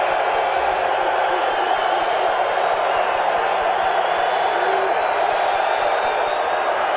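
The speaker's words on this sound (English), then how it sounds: "And the crowd's getting into it." A packed football stadium crowd roars in a steady, broad wash of cheering at an Oilers versus Patriots game in New England, sustained and loud without breaks.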